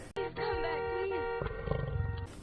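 A lion roars loudly in one long, sustained, rumbling growl that fades at the end, with no talking.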